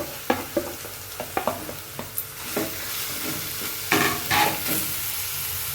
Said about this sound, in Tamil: பொடியாக நறுக்கின இஞ்சியை சேர்த்து நல்லா பொன்னிறமாக வறுத்துக்க போகிறாங்க